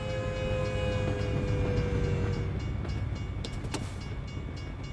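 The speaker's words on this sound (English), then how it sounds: "We have a train." A train passes in American Truck Simulator with a steady loud rumble and a sustained horn tone. A few sharp clanks come near the end, and no one talks.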